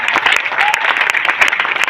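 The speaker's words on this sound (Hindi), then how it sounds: "please clap" A seated audience at a Hindi-language motivational success-story event applauds steadily, a dense wash of many hands clapping continuously for about two seconds with no pauses.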